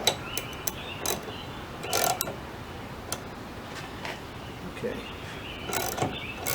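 Jacking bolt on a Volkswagen Beetle hinge pin removal tool being turned: a run of close metallic ratcheting clicks and taps at an uneven pace over a steady background, with someone speaking briefly.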